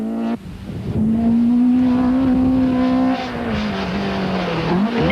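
A Nissan rally car on a 1992 stage run, its engine climbing hard and holding a loud, strained drone near the listener before dropping pitch and fading as it passes, no speech.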